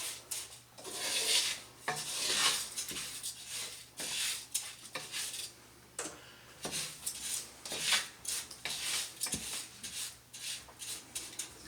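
Rice toasts in oil in a pan while a utensil scrapes and rubs across it in repeated strokes, a soft hissing shuffle with irregular pauses, close and fairly quiet.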